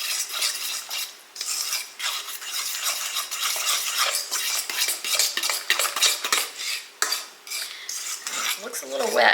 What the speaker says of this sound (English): We're going to mix this up, turn it into a batter, and put it in muffin cups